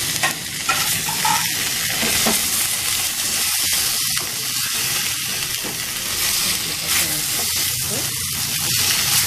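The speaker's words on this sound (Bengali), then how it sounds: "আর এর মধ্যে মিশে দিচ্ছি আমি লাল লঙ্কার গুঁড়োটা" Ginger-garlic paste with coriander and red chilli powder sizzling and being stirred in a frying pan for a paneer and potato curry, a steady loud hiss with scraping stirs throughout.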